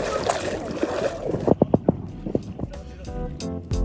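Water sloshes and splashes as feet in sandals wade across a stream in the Puga Valley, Ladakh, with a loud rushing start followed by a series of distinct close splashes.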